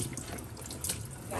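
Water runs from a kitchen tap into a sink as leaves are rinsed front and back for moimoi, a continuous close splashing and gurgling with brief louder surges.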